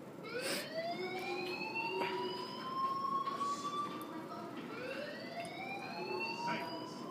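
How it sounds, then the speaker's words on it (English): Fire alarm in the video game Life is Strange wails in repeated rising electronic whoops, each sweep climbing in pitch before restarting, heard fairly quietly as a steady cycling tone. "do you hear that fire alarm?"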